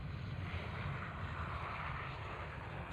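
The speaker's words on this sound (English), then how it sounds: "This is Aer Lingus, Airbus A320." An Aer Lingus Airbus A320 airliner at Schiphol, heard as a faint, steady, distant engine rumble with no voices over it.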